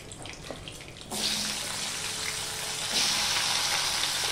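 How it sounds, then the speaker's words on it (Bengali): Spiny gourd (kakrol) pieces dropped into hot white oil with a pinch of salt sizzle in a steady broadband hiss that starts abruptly after a second of quiet kitchen noise and swells louder near the end, with no talk. "এবার সবার প্রথমে আমি কাঁকরোলগুলোকে ভেজে নেব।"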